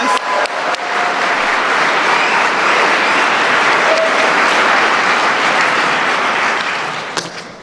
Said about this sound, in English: if you all can join me in one more round of applause